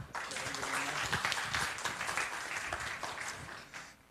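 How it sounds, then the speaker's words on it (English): Steady audience applause in a university lecture hall welcoming a speaker at a social responsibility event, a sustained round of clapping lasting about four seconds before tapering off. "a round of applause"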